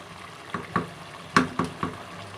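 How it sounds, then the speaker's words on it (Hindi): Matar pulao being stirred in a cooking pot, with a handful of distinct scraping, clattering strokes spaced irregularly over a soft sizzling background, close and fairly loud, with no talking. "एक दफ़ा अब हिलाएंगे। और हिलाने का तरीका आप देख रहे हैं"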